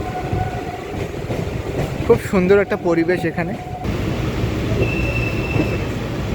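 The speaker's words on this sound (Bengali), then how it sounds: "গার্ডেন থেকে কিন্তু ট্রেনটা ছেড়ে দিয়েছে" A Kolkata local train runs between Sealdah and BBD Bag, a steady rumble of wheels and carriage noise throughout with a short squealing burst midway, while someone speaks over it.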